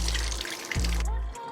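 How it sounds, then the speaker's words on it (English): Tap water runs steadily into a sink drain just cleared of a hair clog, a close, continuous splashing flow that briefly pauses and resumes. "Now you can run the water to see if the clog has been removed."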